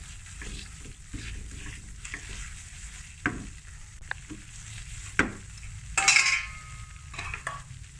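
Flour for a Russian kabab mixture being roasted in a pan over low heat: a steady quiet sizzle with occasional sharp spatula scrapes and taps against the pan, and a brighter hiss near the end.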